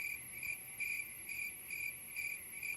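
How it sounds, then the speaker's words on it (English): Crickets chirping in a steady pulsing rhythm, bursts repeating about every half second over a constant high trill, heard alone with no voices. "And it's crickets. It's crickets."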